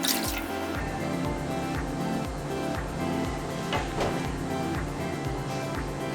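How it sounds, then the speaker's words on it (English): Vegetable broth is poured into a pot of simmering soup for a Burmese vegan coconut noodle dish. A steady liquid splash and trickle continues throughout, with faint drips, close and fairly loud, and no talking. "So we actually want to add some more veggie broth, another cup."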